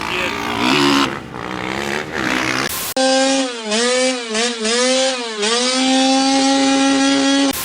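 450cc dirt bikes rip across the Pismo sand dunes, their engines snarling in loud, close revs whose high whine rises and falls several times, after a rough gust of broadband noise.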